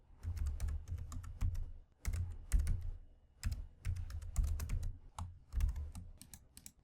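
Code typed on a computer keyboard in bursts of quick, close key clicks and clacks, separated by short pauses, with no talking.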